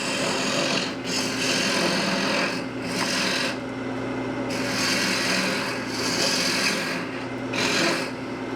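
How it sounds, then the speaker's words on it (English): A wooden teapot is hollowed on a lathe, with a steady motor hum under repeated rasping gouge cuts that come in bursts and pauses, close and without talk. "Okay, so now we'll just start hollowing. We'll start making my hole a little bit bigger."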